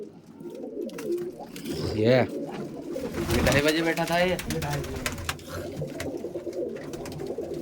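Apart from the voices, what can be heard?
pigeons cooing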